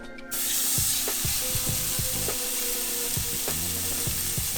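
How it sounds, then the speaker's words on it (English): Loud, steady sizzling of Wagyu burger patties frying in a hot pan, with crackles and a few clinks of a utensil against the pan. "Here comes the sizzle."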